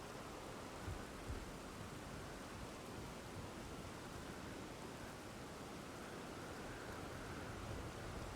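Nighttime rain in Elden Ring falls as a steady, even hiss of fine downpour, soft and unbroken throughout with no voices.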